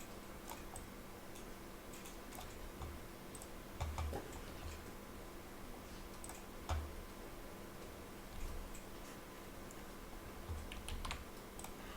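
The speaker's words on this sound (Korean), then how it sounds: "더블 클릭을 빠박 눌러서" Computer mouse clicks, including a quick double-click, sound among scattered light, dry clicking over a faint steady hum, close and quiet.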